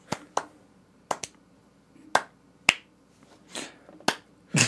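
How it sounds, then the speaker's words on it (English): A slow, deliberate clap: sharp single hand claps spaced unevenly, about eight of them over a few seconds, close and fairly loud with quiet gaps between. "Slow clap."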